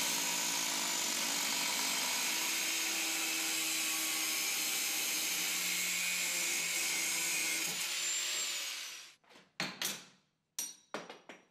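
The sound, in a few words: angle grinder cutting metal tubes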